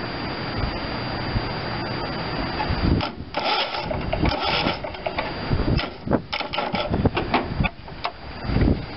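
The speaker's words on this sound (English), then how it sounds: "If I turn the key and I push the clutch slowly in," A John Deere LT133 riding tractor's small engine sputters and cranks in uneven bursts, catching briefly and stumbling, close and fairly loud, with no talk.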